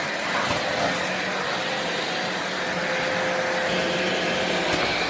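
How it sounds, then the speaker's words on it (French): A Philips 8000 Series Pet cordless vacuum cleaner runs on a rug with a loud, steady motor whine and airflow rush. Its pitch holds a thin tone that shifts slightly as the machine adjusts to the surface. "L'aspirateur s'adapte au tapis,"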